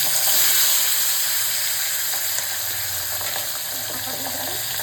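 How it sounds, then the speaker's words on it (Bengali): Pabda fish frying in hot oil in a pan, a steady loud sizzle with scattered crackling spatters running throughout, no talking. "ঢাকা না দিলে মাছটা খুব ফাটে, অলরেডি তেলটা ছিটবে, মাছ ফাটে।"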